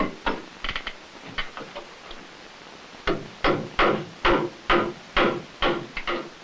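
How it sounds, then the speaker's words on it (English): Nails are hammered to toenail a wooden joist into a beam: a few scattered knocks, then a steady series of about ten sharp, evenly spaced hammer blows at moderate distance, no speech. "it's also necessary to toe nail the joist into the beam on both sides."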